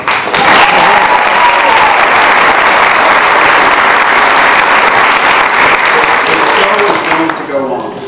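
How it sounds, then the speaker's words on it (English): An audience at a children's theater production of The Pied Piper bursts into loud, sustained applause, a dense wash of clapping that holds steady for about seven seconds before thinning out at the end. "I want to have a big round of applause for her."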